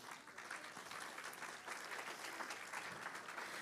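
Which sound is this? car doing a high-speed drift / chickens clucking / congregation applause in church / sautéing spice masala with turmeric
congregation applause in church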